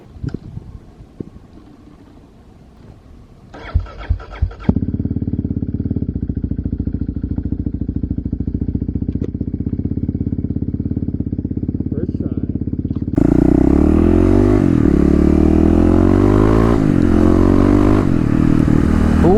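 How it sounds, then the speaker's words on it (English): A 2018 fuel-injected Kawasaki KLX351 dual-sport motorcycle idles with a low, steady engine drone, then revs up loudly near the end. Its pitch climbs and dips through several throttle blips, with a few brief clanks early on. "We are going to get some 0 to 60 runs on the KLX."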